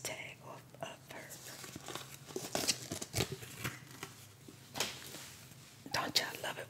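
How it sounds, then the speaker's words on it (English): Soft snipping, crinkling and handling noises come from a tag being removed from a new Remy fiber handmade wig, with quiet whispered talk and scattered sharp clicks. "Let me take this tag off of her."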